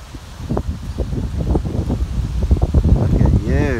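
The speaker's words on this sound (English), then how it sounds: "with the wind blowing them" Outdoors, near a mute swan and a cyclist, wind blows hard against the microphone, making a steady, loud, rough rumble and rustle throughout.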